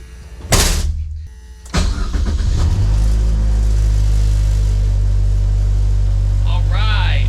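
Chevy Sonic fitted with a bigger turbo and a new tune cranks briefly, catches on the second try and settles into a loud steady idle, with a voice speaking faintly over the engine toward the end.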